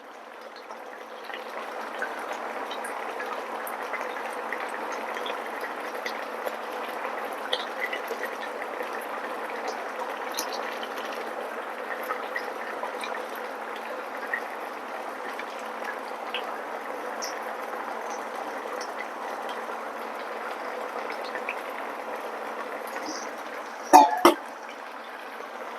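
A pot of katla fish curry at a rolling boil gives a steady, even bubbling hiss for about twenty-five seconds, with a brief louder knock near the end.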